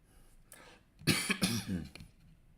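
A person coughs in a short cluster of harsh, close bursts near the middle, set against a quiet indoor room with faint background noise before and after.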